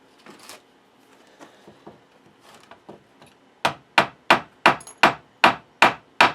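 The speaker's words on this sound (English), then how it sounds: "again, using my rubber hammer so we don't do any damage" A rubber hammer taps a wooden guitar part down into a tight-fitting slot during a from-scratch guitar build, with quieter scattered knocks at first, then eight sharp, evenly spaced loud strikes, close up and without speech.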